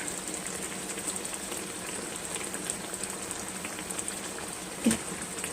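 Ground beef cooks in a pan with a steady, close sizzle and crackle like light rain, constant throughout with one brief clatter near the end.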